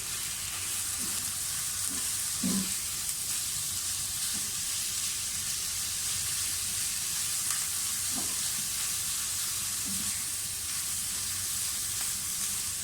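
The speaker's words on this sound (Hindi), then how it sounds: "साथ ही इसमें कीमा डाल दें। हरी मिर्चों के साथ अच्छी तरह से भूनें।" Minced meat fries with green chillies in a hot pan, giving a steady close sizzle with occasional soft stirring scrapes, and no talking.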